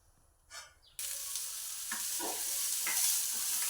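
Sweet corn kernels fry in a little oil. After a quiet start and one soft knock, a loud, dense sizzle bursts in and holds steady up close, with a few faint stirring sounds and no voices.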